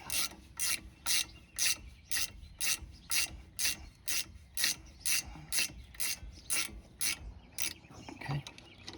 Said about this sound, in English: Flip your wrench over.